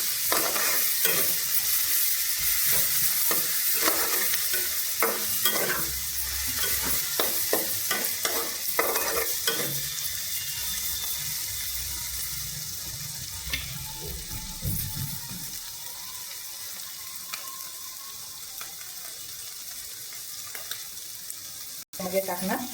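Chopped tomatoes for aloo matar paneer upma sautéed in a pan, with close sizzling and repeated spatula scrapes and stirs that thin out into a quieter simmer, plus a brief splash of water.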